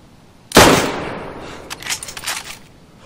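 A single sharp gunshot cracks loudly in the DayZ survival game on Xbox, its echo trailing away, followed by a few softer, scattered clicks and thuds.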